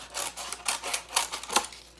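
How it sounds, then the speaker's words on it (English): Small scissors snipping into a styrofoam plate, a quick run of crisp, dry clicking cuts in an irregular rhythm, close and fairly quiet with no talk. "cut into it with your little scissors until you get something like this"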